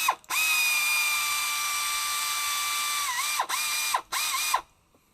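A ratchet tightens a front brake caliper bolt on a 2010-2014 Chrysler 200, a long run of rapid clicking followed by a few short bursts close by, then quiet.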